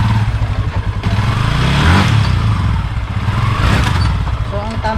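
A Yamaha Sniper 150 motorcycle engine runs loud and close, idling and revving with some mechanical clatter while someone talks over it.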